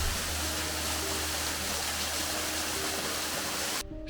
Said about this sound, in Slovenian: Koliko lepo, slapov še ni konc.